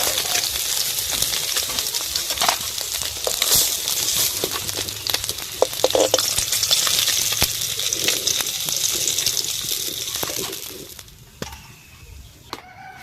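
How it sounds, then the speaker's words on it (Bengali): Bhola river fish frying in hot oil, a bright crackling sizzle with scattered pops and clinks, fading quieter toward the end. "এই মাছগুলোও ভাজা হয়ে গেছে, তুলে নেব।"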